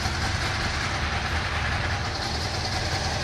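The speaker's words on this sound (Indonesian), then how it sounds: "Dan sekarang kita manasin si Subaru WRX STI hatchback manual" A Subaru WRX STI hatchback with a manual gearbox, all-wheel drive and a turbo warms up at idle, giving a steady low rumbling drone that stays even and close, with no talking.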